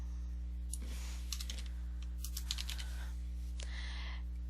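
Typing on a computer keyboard while coding a game in Adobe Flash, with a few scattered bursts of key clicks over a steady low electrical hum, fairly close and quiet.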